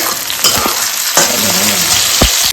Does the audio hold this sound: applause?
no